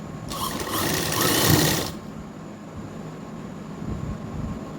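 A sewing machine stitching a side pocket on ladies' pants: one steady, close mechanical run of about a second and a half, then quiet.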